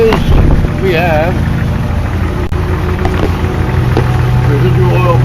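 A Jeep ZJ with a 4.0L engine idles steadily with valve tap, a deep constant rumble that fills the scene while someone talks over it and a few faint clicks and knocks come through.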